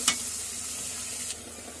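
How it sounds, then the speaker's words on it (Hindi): Chili, coriander and garam masala powders stirred in a hot pan for a Hyderabadi eggplant and mutton salan, frying with a steady close sizzle and a couple of soft scraping strokes. "ये भी सब एक साथ में डाल के हिला लेना अच्छे से, और इसको मसाले को अच्छा पकने देना है"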